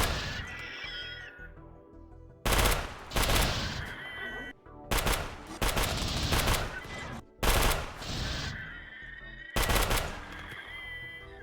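Machine-gun fire during a raid in the RimWorld video game, several loud sustained bursts of rapid shots separated by short pauses over a music bed.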